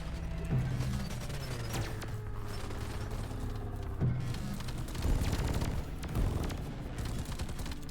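Rapid gunfire and weapon mechanisms rattle continuously in Deep Rock Galactic, with repeated sharp shots and heavier bursts during a solo mining mission.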